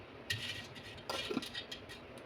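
A spoon stirring sugar into solkadhi, a Malvani kokum drink, in a pot, a few quiet scattered clinks and scrapes of metal against the vessel.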